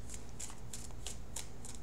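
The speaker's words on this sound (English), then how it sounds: "Okay, so I'm shuffling for that outcome card." Tarot cards being shuffled by hand, a quick series of six or so crisp riffling bursts at a steady rhythm, close and fairly quiet.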